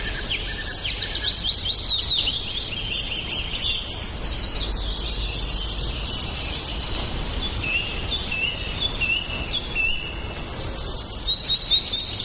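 A pair of weaver birds call with high, thin chirps and twittering phrases over a steady rustling outdoor background. The calls come in short bursts across the whole stretch, moderately near, with no voices.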